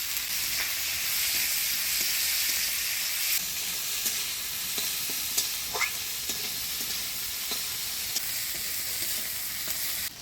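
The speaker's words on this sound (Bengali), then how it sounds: "পেঁয়াজ, লঙ্কা, থেতো করা রসুন দিয়ে ভালো করে ভাজা ভাজা করে নিলাম" Chopped onion, chili and crushed garlic fry with dried fish in a pan, giving a continuous close sizzle dotted with sharp crackles and occasional stirring clicks throughout.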